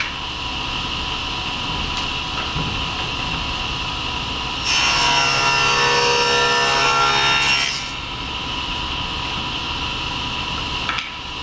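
Wooden drawer pieces have rabbets cut into them, and the cut is a roughly three-second burst of bright, rasping woodcutting noise. A steady machine hum sits beneath it, and a faint tap follows once the cut ends.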